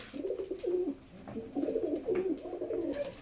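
An old pigeon coos close by in soft, throaty rolling phrases, two or three bursts with brief pauses between them.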